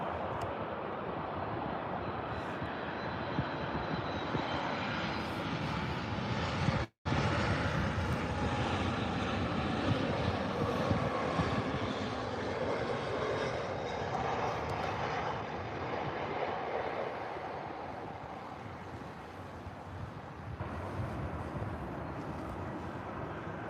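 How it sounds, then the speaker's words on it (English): A Boeing 737 comes in to land at Birmingham Airport, its engines producing a steady, broad jet roar that holds throughout at moderate distance with no talk, apart from a brief dropout. "The 737 coming in hot."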